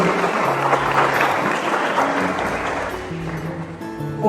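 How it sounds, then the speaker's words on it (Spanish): A crowd applauds students at a church centenary celebration in Calabozo, a dense, sustained wash of clapping with a faint musical tone emerging toward the end. "Un fuerte aplauso para ellos que se encuentran presentes."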